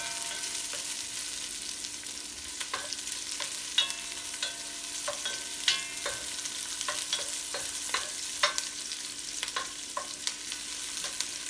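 Mussels cooking in a pan at a steady low sizzle, with a scatter of soft clicks and light stirring knocks over about twelve seconds, moderately close, with no one talking.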